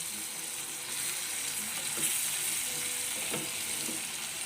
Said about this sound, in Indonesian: Kemudian bumbu ini kita tumis dulu. Nah, ini kita tumisnya sampai benar-benar harum ya.